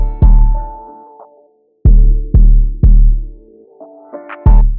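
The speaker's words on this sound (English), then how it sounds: "when it sounds like the beat goes underwater? It's because you're putting a filter on it." A music beat run through a low-pass filter so it sounds muffled and underwater: deep booming kicks land at irregular intervals beneath dull sustained synth chords, loud and with no talking.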